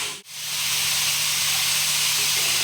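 Ridge gourd with salt and spices stir-fries in a pan with a loud, continuous sizzling hiss that briefly dips near the start, then holds steady.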